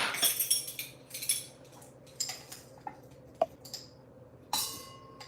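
Whole nutmeg pieces and allspice berries being ground for a World War I trench cake, giving a series of close, irregular scraping and clicking bursts with short pauses between them, alone without talk.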